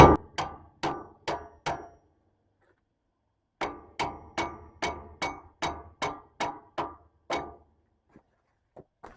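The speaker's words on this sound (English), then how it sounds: "Tap on this axle with my hammer and get it out." Metal hammer blows on a big truck's rear axle ring out in quick rhythmic runs, about five strikes, a pause, then a longer series of a dozen, ending with scattered lighter taps.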